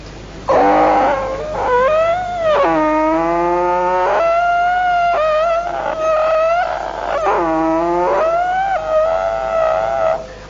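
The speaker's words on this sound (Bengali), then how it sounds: "গরু গাড়িতে উঠার পর একটা সুন্দর শব্দ আসছিল সেই গরু গাড়ির চাকার থেকে" Ungreased wooden wheels of a bullock cart creak loudly and close by. The sustained, wailing, pitch-bending squeals come in long drawn-out waves, almost like a howl.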